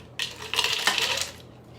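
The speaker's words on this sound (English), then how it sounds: "So I'm going to put some ice in this" Ice cubes tumble into a big wine glass, a bright glassy clatter of several clinks over about a second, close by and alone.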